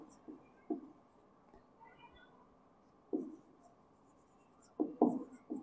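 Scratchy strokes of writing on a board during an accounting lecture come in short, separate bursts, a few clusters spread across a quiet room with no talk.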